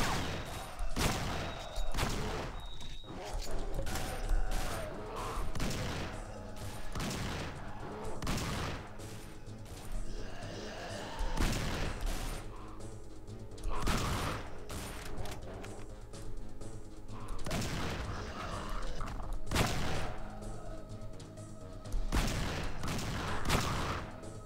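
Rapid bursts of gunfire aimed at zombies in the video game Survivalist, crackling shots repeating in dense volleys across the whole stretch with little pause.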